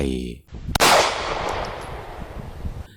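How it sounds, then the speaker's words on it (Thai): A single sharp shotgun blast cracks out in a forest at night after a brief voice, followed by a long rumbling echo that fades slowly. "เสียงปืนลูกซองดังก้องป่า"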